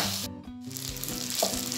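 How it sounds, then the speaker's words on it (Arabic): Onion and chicken frying together in a pot, a brief dense sizzle with a short drop in the middle before the hiss resumes. "نخلي شويه تقلى شويه مع هذا البصله والدجاج"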